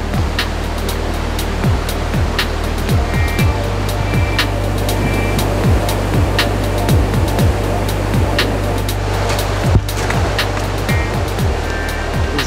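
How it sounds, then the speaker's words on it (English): River rapids in French Guiana during the rainy season, a loud, steady, continuous rush of water heard up close, with no talk. "There's another set of nice rapids down there."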